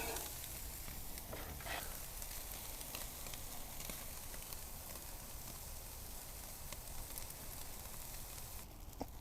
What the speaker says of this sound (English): these have been on the grill for about maybe 5 or 6 minutes